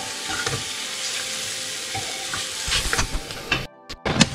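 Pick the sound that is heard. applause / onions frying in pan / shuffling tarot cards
onions frying in pan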